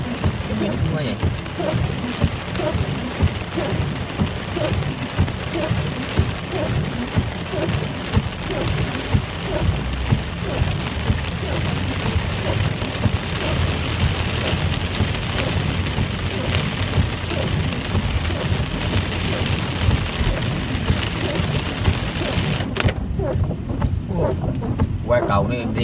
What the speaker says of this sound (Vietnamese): Mưa to vậy